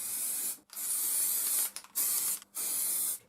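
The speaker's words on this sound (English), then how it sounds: "After spraying the first side, I left it for an hour or so to dry" Grey car body primer hisses from a spray can onto a movie prop rifle recast, in three long steady bursts with short pauses between, close and loud with nothing else audible.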